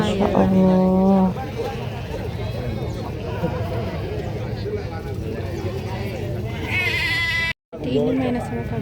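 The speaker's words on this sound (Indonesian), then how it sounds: "Itu ada kambing yang besar sekali guys, itu tuh kambing Jawa guys, besar banget itu kambingnya" Large Javanese goat bleating at a livestock market, loud drawn-out calls near the start and again toward the end, over a dense background of crowd chatter and other animals.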